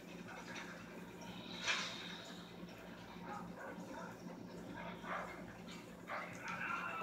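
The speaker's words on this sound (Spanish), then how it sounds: "ahí vienen unos perros" Dogs barking and yipping in the video game Far Cry 4, faint and somewhat distant, a few scattered barks over low game ambience.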